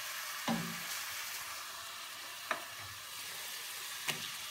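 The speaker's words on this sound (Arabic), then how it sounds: "غادي نحط اللحم ديالي باش يتشحر مع البصله ياخذ حتى المذاق ديالها" Meat sears with onion in a pot for Iranian ghormeh sabzi, a quiet, steady sizzle broken by three sharp scraping stirs spaced a couple of seconds apart, with no talking.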